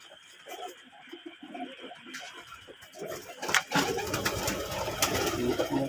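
Local domestic pigeons in a coop coo softly in low, repeated throaty phrases close by, then a louder burst of rustling and shuffling noise takes over.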